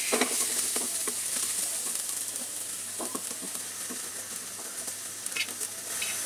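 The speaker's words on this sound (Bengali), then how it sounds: "কড়াইয়ে 2 চামচ তেল গরম করে তার মধ্যে 3 কোয়া রসুন এরকম কুচি কুচি করে রাখা, ওইটা দিব, দিয়ে একটু ভেজে নেব" Chopped garlic fries in about two spoons of hot oil in a wok, a bright steady sizzle broken by scraping stirs and soft clicks, close and alone.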